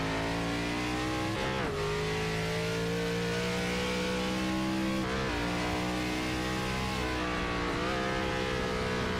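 An ARCA Series race car in a sim racing game at Sonoma, its engine droning steadily and loud throughout, with upshifts at low RPM marked by brief dips as the pitch climbs and resets several times.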